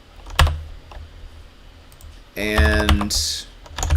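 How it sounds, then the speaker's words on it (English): Typing on a computer keyboard while coding, a burst of fast clicking keys near the end with a sharp knock earlier, heard close and fairly loud with brief talk. "there's going to be a fair amount of typing now, so it's probably going to get a little loud"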